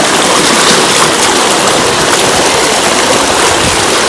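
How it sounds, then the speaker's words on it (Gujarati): Irrigation water flows through a farm field, a loud, steady, close rushing and gurgling that never lets up. "આપણું પાણી હાલે છે અહીંયા અટાણે."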